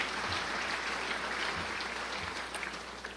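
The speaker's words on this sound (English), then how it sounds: "A round of applause for our Historical Preservation Commission." Applause from an audience at a city State of the City address in Crown Point, honoring the Historical Preservation Commission; broad, steady clapping fills the room for about three seconds, tapering slightly at the end, with no talk over it.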